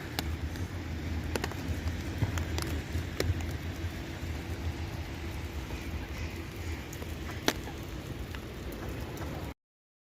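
Steady rain falling over a duck pond, a soft continuous patter with occasional sharper drops close by, no voices.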